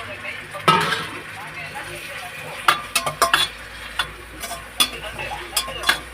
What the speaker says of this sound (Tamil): இடிச்சு வச்ச மிளகு ஜீரகம் நல்லா வதங்கணும்.